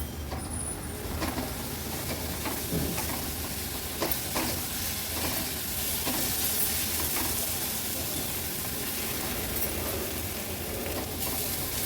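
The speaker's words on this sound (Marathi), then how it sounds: "हे हिरवं वाटण पण व्यवस्थित आपल्याला कांद्यामध्ये असं परतून घ्यायचं आहे।" Green masala paste sautés with onions in a pan for a Maharashtrian vegetable dish, a steady close sizzle with intermittent scraping stirs throughout, no talking.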